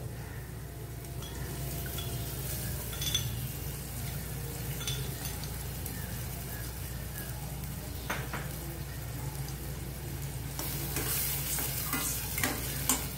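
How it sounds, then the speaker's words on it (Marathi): Tomato puree added to onions in a pan and stirred: a continuous soft sizzle with scraping stir strokes and occasional clinks of the spoon against the pan, building slightly louder near the end. "कांदा घालून झालं की आपण जी टोमॅटोची प्युरी घेतली आहे, जी टोमॅटोची प्युरी घालून घेऊया."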